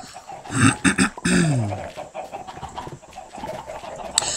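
Minecraft chickens cluck and squawk in a quick burst of calls, loud and close, followed by scattered softer clucks and rustling game sounds.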